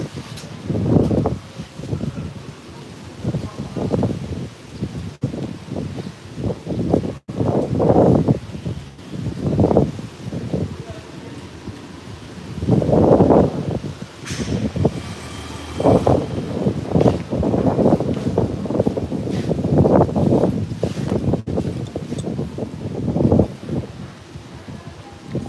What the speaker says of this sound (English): It is indeed windy.